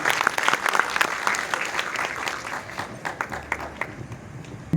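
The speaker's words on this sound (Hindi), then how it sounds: "आप दोनों के लिए बल्कि जोरदार तालियां पे स्वागत हैं" An audience at a welcoming ceremony claps loudly for two honored guests, a dense burst of many hands with sharp individual claps standing out, fading slightly and then swelling again near the end.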